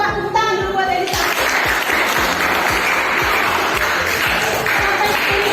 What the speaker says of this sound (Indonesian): coba tepuk tangan dulu buat Edi sama